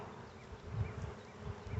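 A steady, dense buzzing of many honey bees on a hive frame close by, a continuous low hum that swells slightly and never stops.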